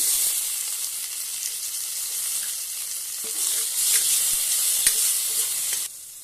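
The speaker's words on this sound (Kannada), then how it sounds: "ಈಗ ಟೊಮೆಟೊವನ್ನು ಫ್ರೈ ಮಾಡೋಣ." Tomatoes fry in a pan for a home-style chicken curry, giving a continuous bright sizzle and hiss. Faint stirring clicks and scrapes come through near the end before the sizzle suddenly drops.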